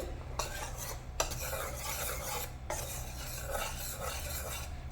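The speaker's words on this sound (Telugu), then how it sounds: "ఇలా మొత్తం మనం ఫ్లోర్ అంతా మిక్స్ చేసుకోవాలండి" A spoon stirs flour into homemade brownie batter in a bowl, giving a steady scraping, swishing sound with a few brief breaks, close and continuous with no voices.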